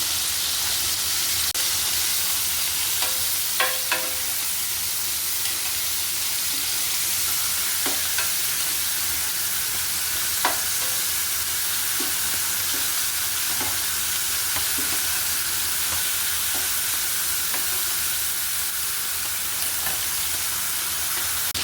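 A whole fish fries gently in hot oil in a pan, giving a steady bright sizzle that hisses on without pause, with a few faint clinks now and then.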